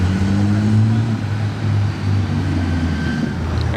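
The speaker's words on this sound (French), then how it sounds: "Une autre pagode, celle-ci elle fait un gros bruit" A tuned Mercedes Pagoda with a loud aftermarket exhaust rumbles with a deep, steady engine drone nearby, its low growl shifting slightly in pitch as it runs.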